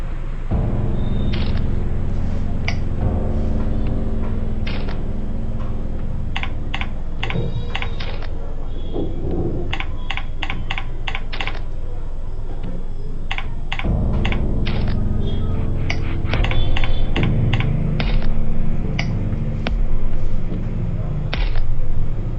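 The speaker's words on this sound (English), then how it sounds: "For typing in local language, you can also use the bilingual keyboard." Steady typing on a computer keyboard, with dense runs of close, crisp key clicks, a brief pause in the middle and a few louder spaced strokes toward the end.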